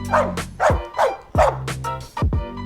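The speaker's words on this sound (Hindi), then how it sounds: "क्या हुआ बे? भौंक काहे रहा है?" A dog barks about five times in short, loud, evenly spaced woofs, close by, with no talking over it.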